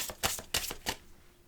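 Tarot cards being shuffled by hand up close, a few quick riffling bursts in an uneven rhythm that trail off into quiet.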